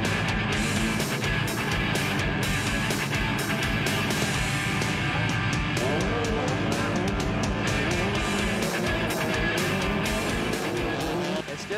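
Race cars roar around an ice circuit at the Sherbrooke ice challenge, engines revving up and down continuously with tire squeal and skidding mixed in, loud and close throughout.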